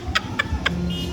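Young chicks cheep in a few brief, bright peeps near the microphone, with low background murmur and rustle underneath.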